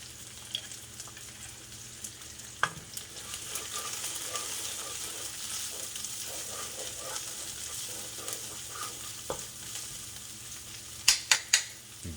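Ginger hits a hot pan in a shrimp noodle soup preparation, giving a steady close sizzle and frying hiss with a few sharp clinks of utensils near the end, no talking.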